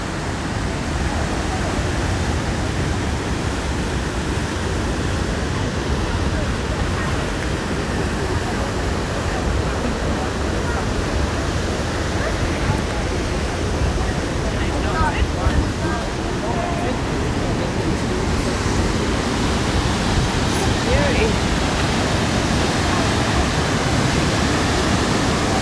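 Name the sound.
Athabasca Falls waterfall roaring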